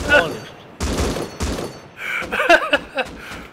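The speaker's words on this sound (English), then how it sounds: "someone's shooting me from the raid base" Gunfire in the video game Rust during a raid, quick bursts of shots and thuds mixed with a player's excited voice talking over them.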